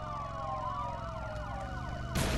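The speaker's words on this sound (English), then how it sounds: "the police sirens can get annoying because, like, there's one there and no one even in it." Several police sirens from the video game Road Rage wail at once with overlapping rising and falling tones, loud and continuous, with a burst of noise hitting near the end.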